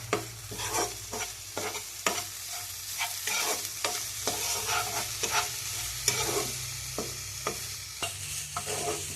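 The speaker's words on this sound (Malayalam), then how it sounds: "ഇതെല്ലാം കൂടി ഒന്ന് മിക്സ് ആക്കാം" Unnakkaya filling mixture stirred in a pan, a spoon scraping in steady repeated strokes over a soft sizzle, close and clear with no talking.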